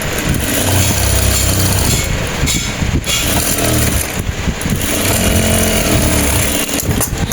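A sewing machine stitches fabric for a pair of women's pants, a loud, steady mechanical whir that runs almost unbroken with brief dips in pace.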